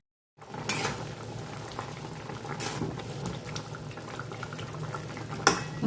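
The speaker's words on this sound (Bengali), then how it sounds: "আমি এবার এটা ঢাকা দিয়ে এগুলোকে একটু সেদ্ধ হতে দেবো" A covered pot of potatoes and vegetables for Bengali laal sukto bubbles and simmers steadily, a continuous soft boiling texture with a few light clinks, no voices.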